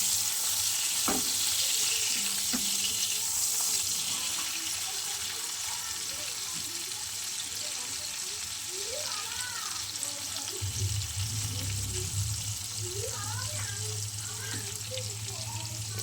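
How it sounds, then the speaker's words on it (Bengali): A piece of fish fries in oil with two green chillies and garlic, a continuous close sizzle running the whole time, with faint bubbling and a low hum underneath. "আমি শাক রান্না করব, তাই এক পিস মাছ দিয়ে দিলাম, দুটো কাঁচা লঙ্কা, একটু রসুন ফোড়ন দিয়ে দিয়েছি।"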